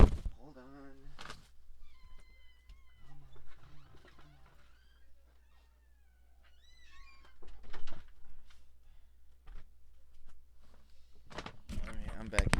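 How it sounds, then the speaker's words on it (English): A house cat meows insistently to be let out, with several short, fairly faint meows scattered among quiet indoor stretches while a person talks nearby. "My cat's bugging to get out."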